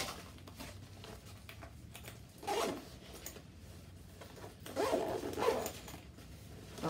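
Zipper on the side pocket of a Dunks diaper bag pulled in two short bursts, close and fairly quiet, with a pause between them and no talking.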